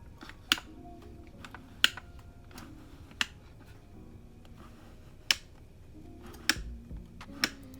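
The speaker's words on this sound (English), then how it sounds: "each time you change the focal length, you'll hear a clicking sound" Several sharp, crisp mechanical clicks from the focus ring of a Lomo'Instant Wide Glass instant camera ring out at irregular intervals against a quiet room background.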